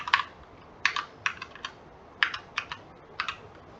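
Keys clack on a computer keyboard as a password is typed: close, crisp keystrokes in several short rapid clusters separated by brief pauses, with no voices.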